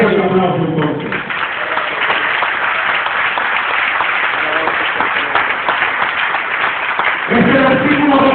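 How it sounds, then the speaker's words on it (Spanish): Church congregation bursts into lively applause after a sermon, with voices and cheers mixed in, before a preacher's speaking voice returns at the close. "Denle un aplauso entonces."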